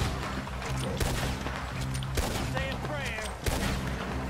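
Gunfire in a Wild West-themed video game, a near-continuous crackle of overlapping shots with heavier cracks standing out every second or so, dense and fairly loud under brief bits of voices.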